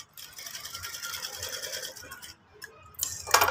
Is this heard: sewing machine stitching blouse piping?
yes